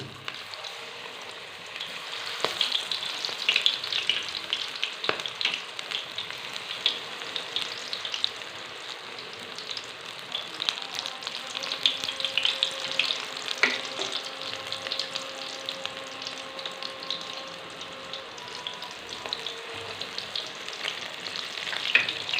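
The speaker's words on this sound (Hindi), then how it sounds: "घी गर्म हो गया, अब इसमें हम पकोड़े डाल देते हैं।" Pakoras deep-fry in hot ghee, a continuous crackling sizzle with scattered pops and bubbling that keeps going close up for a long stretch, no speech over it.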